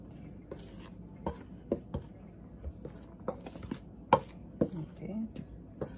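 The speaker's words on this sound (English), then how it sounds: "I will use a clean dry spoon to mix those" Clean dry spoon stirring and scraping dry ingredients and spices in a bowl for Jamaican coconut toto, a series of irregular close clinks and scrapes with soft rustling between them.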